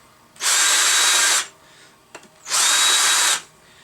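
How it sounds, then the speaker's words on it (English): A power drill countersinks a hole in a Volvo brake caliper in two loud, steady whirring bursts of about a second each, separated by a short pause with a faint clink. "I can use the countersink more easily."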